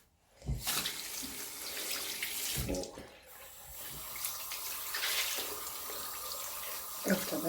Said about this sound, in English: After that, I wash the soap away from the washing cloth and just wipe my face.